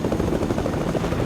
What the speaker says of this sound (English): Misty, just get in the chopper